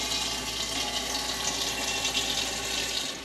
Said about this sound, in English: Now we're going to fill this back up with water.